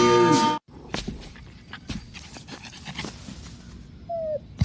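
A puppy pants in quick, soft, close bursts with a few faint whimpers, after a brief loud sound at the start and a short whine-like tone near the end.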